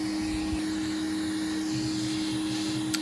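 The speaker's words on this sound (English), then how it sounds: "Just get a soft brush on the end of my Henry Hoover" A Henry Hoover vacuum cleaner with a soft brush attachment, dusting the circuit board of a Sony CFS 1030L radio cassette player, drones in a loud, steady, unbroken whine.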